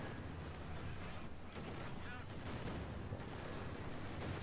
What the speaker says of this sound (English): nice stun grenade